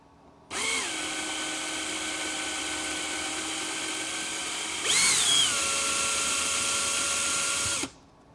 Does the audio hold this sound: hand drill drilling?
yes